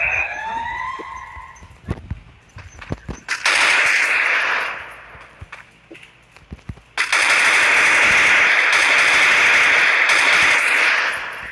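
Gunshots in the Free Fire video game arrive first as scattered single cracks, then as sustained loud automatic fire that runs on for several seconds, all set against a siren-like wailing background.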